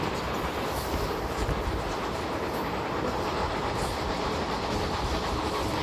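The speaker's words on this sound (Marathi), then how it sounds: "क्रॉसिंग होतंय श्री गंगानगर तिरुचिरापल्ली हमसफर एक्सप्रेस सोबत." An Intercity Express running from Pune to Mumbai crosses the Shri Ganganagar–Tiruchirappalli Humsafar Express, heard from on board as a dense, continuous rumble and rattle of wheels and carriages at steady loudness throughout.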